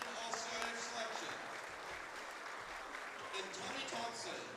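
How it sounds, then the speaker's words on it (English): Applause from an audience at an evening awards presentation during a men's basketball event at Mission Prep and St. Joseph, a steady, moderately distant wash of clapping with crowd murmur and some talking mixed in. "Please give a nice round of applause to Billy Seamus"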